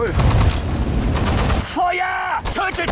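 Dense gunfire from a Stalingrad battle in the WWII strategy game Sudden Strike 4, continuous bursts and volleys at first, then dropping back behind shouted German voice commands from units.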